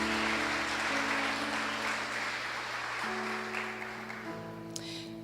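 Congregation applause during a Spanish-language Sunday church service, a broad steady wash of clapping that carries on under sustained organ or keyboard chords and slowly fades toward the end.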